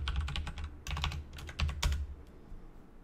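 Fast typing on a computer keyboard, close and clear, in several bursts of rapid key taps separated by brief pauses, with a low hum underneath and no talking.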